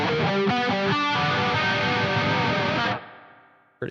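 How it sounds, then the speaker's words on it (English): A distorted electric guitar plays a chugging rhythm riff through a chorus pedal, starting with a few choppy stabs and then a held ringing chord that cuts off abruptly, loud and close with no talking. "I've got a chorus for basically just the nocturnal rhythm kind of riff"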